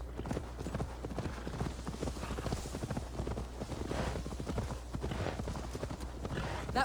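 Horse hooves clip-clop steadily in Assassin's Creed Valhalla, a continuous rhythmic trot close by with faint background ambience.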